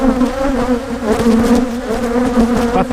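A honeybee colony hums loudly and continuously during a March hive inspection, a dense buzz of many bees with individual wingbeats flicking close by.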